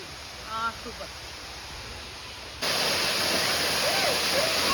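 A waterfall at Kalvari Mount roars as broadband rushing water, faint at first and then loud and steady after a sudden jump midway. A brief voice is heard near the start.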